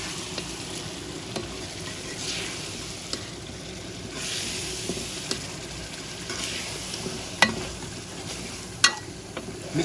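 Boiled beef frying in a thick masala for karela gosht, a constant close sizzle with scraping stirs and occasional sharp clicks of a spoon against the pot, and no talking.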